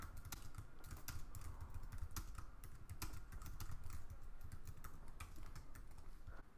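Rapid, continuous clatter of keys on a computer keyboard as a short message is typed, close and steady for several seconds with no talking.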